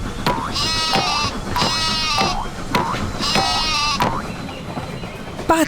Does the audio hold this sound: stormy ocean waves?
no